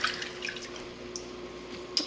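Whole kale leaves are swished in a bowl of water, with soft drips and light splashes over a faint steady hum, ending in a slightly louder splash.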